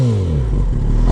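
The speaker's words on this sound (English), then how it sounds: "first start on the ZX10. Oof. It does sound nice" A warmed-up Kawasaki ZX10R KRT Edition sportbike revving through its exhaust pipe, a loud, close engine note that rises and then settles over about a second.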